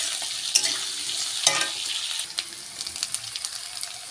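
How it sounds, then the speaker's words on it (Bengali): Potatoes, onion and ginger fry in a pan, a close steady sizzle broken by scraping stirs and clinks of the spoon, with no talking. "একদম আলাদা করে আলুটা ভাজা করছি"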